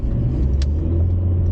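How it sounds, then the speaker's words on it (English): Cars pass outside, a steady, loud low rumble of road traffic that runs unbroken through the moment, with no voices over it. "There's a lot of cars out."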